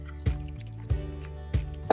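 Wet, squelching thumps from flour and water being stirred into sourdough dough, roughly three heavy strokes spaced evenly and close up, over a faint background hum.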